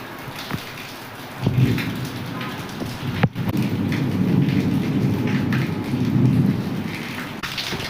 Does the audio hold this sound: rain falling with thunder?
yes